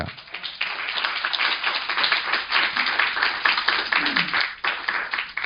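Audience clapping at a lecture on AI and legal documents, a fairly loud burst of hand claps lasting several seconds with uneven rhythm and some room noise mixed in.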